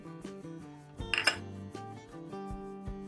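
Milk powder and maida flour being mixed in a bowl for gulab jamun, with a utensil clinking against the bowl in a brief cluster of close clicks over soft background music.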